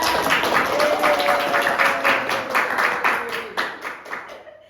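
A class of students claps together, rhythmic and fairly close, with distinct hand claps in a quick beat that gradually loosen and fade, while a voice speaks briefly underneath.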